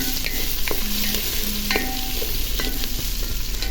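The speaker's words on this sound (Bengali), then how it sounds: "আমি এখানে পেঁয়াজটা ভালো করে ভাজতেছি।" Onions fry in a pan for chicken curry under a constant sizzle, while a spoon scrapes and stirs in several distinct strokes at close range.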